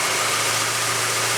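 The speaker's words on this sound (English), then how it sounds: "I'm going to let it idle for a little while" A Ford ZX2 engine idles steadily, a close, continuous mid-pitched hum with low vibration and no variation over the short stretch, heard alone.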